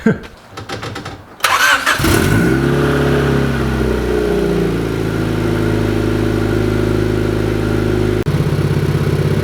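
A car engine cranks and starts, then settles into a steady loud idle, running close by for several seconds while brake cleaner is sprayed around it to find a leak, with a brief dip near the end.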